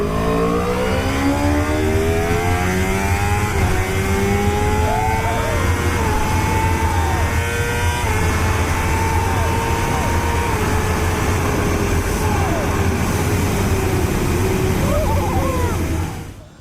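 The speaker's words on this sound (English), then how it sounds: "Today I got to have a spin on Jonathan Rea's 2016 World Superbike Championship-winning the Kawasaki ZX-10R" A 2016 Kawasaki ZX-10R World Superbike championship-winning racing motorcycle roars loud and close without a break, its engine note climbing and falling through repeated revs and gear changes.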